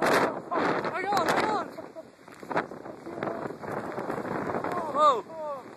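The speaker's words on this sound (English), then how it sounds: "The gust really blew us there." Strong hurricane wind gusts roar and buffet the microphone in loud, sustained rushes with a brief lull midway, while excited voices shout and exclaim over the storm.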